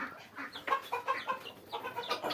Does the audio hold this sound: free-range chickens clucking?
yes